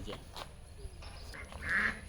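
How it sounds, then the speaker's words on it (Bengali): Ducks quack at a nature park with fish ponds, a few short nasal calls at moderate distance over faint outdoor background and a nearby voice. "অনেক হাঁস আছে"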